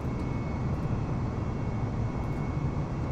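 A heavy jetliner's engines spool at full takeoff thrust in Microsoft Flight Simulator 2020, a steady, loud, broadband roar with a faint high whine, constant throughout with no voices.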